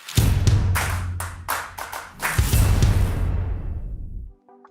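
A few hands clap in a short, uneven burst during a cycling podcast intro, close and dry with distinct slaps at first, then a denser flurry that fades into silence before a faint electronic tone.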